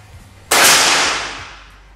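A single sharp air rifle shot cracks out after a moment of quiet, followed by a hissing burst of air that fades over a second.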